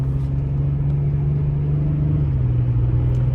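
Renault Vel Satis 3.5 V6 cruising onto a highway, a steady low engine drone heard from inside the car with road rumble, holding one pitch before dipping slightly near the end.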